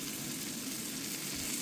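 White asparagus cooking in a pan with garlic, a dense, steady, close frying hiss with no pauses over a short stretch.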